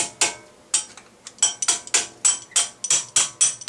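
Metal hammer tapping the inside of a front wheel hub on a 1999-2001 Volvo S60 during a wheel bearing replacement, about eleven sharp ringing strikes in an irregular rhythm, close and clear with no talking.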